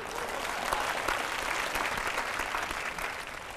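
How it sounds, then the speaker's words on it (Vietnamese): A studio audience on a TV dating show gives a burst of steady, dense applause that carries on for a few seconds and fades slightly at the end. "xin cho một tràng pháo tay cổ động."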